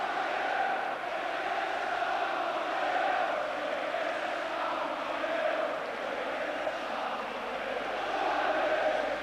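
A crowd of Tottenham Hotspur football fans in a stadium after an FA Cup match, a broad, distant crowd roar that swells and fades over nine seconds.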